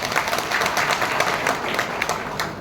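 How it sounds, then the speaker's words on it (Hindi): An audience at a tribal community day gathering breaks into steady, dense applause, many hands clapping together at a moderate distance for a short stretch. "उनके लिए जरा ताली बजाइए।"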